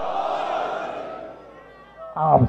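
A large religious gathering chants a Shia slogan together with raised hands. The massed voices are loud and sustained, then a fresh burst of chanting rises at the end.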